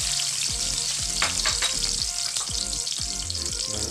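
Garlic sizzles and crackles steadily in hot cooking oil as a Filipino beef-offal and bamboo-shoot dish gets started, with a dense continuous fry and repeated low knocks of a utensil stirring the pan, close and loud.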